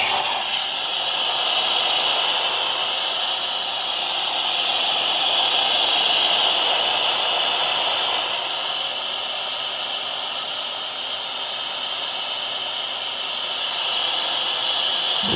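A steady, loud hiss of steam venting from a pressure cooker, continuous for the whole stretch with only slight swells in intensity, no voices.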